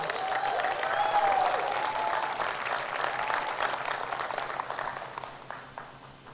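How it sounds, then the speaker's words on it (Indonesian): An audience at a Riway leadership training event applauds for Pak Andi So, sustained dense clapping from a crowd that holds steady before gradually tapering off. "Tepuk tangan untuk Pak Andi So."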